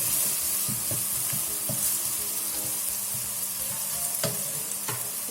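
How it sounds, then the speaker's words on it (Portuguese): Onion and garlic sautéing in olive oil with a bay leaf in a pan for raisin rice, a steady close sizzle broken by occasional stirring scrapes and clinks from start to finish. "E vou refogar a cebola e o alho."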